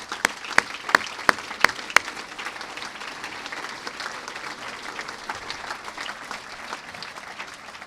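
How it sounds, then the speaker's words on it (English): Applause from a school speech day audience: a few sharp individual claps at the start, then steady, fairly distant clapping from the crowd filling the rest. "Round of applause, please."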